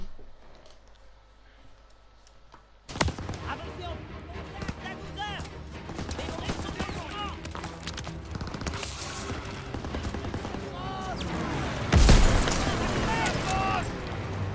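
A Half-Track's mounted machine gun fires in the World War II shooter Call of Duty WW2, with sustained rattling bursts and explosions under the talk of players and in-game voices.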